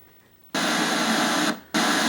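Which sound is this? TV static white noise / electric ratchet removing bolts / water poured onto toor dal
TV static white noise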